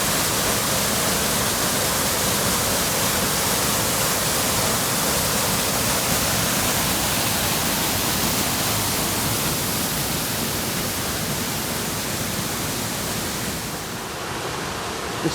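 A loud, constant roar of a waterfall pouring down a chute in Snowdonia, North Wales, fills the air evenly, broad and unbroken, fading slightly right at the end.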